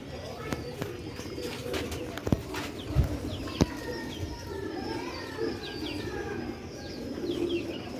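Pigeons coo softly at a breeder's pigeon loft, with a few faint wing flaps and chirps against a busy background. Someone talks over the birds.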